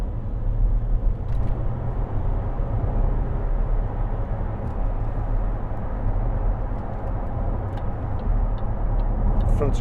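A 2012 Range Rover Sport 3.0 SD V6 HSE cruises through bends, its engine and road noise a steady, muffled low rumble heard from inside the cabin.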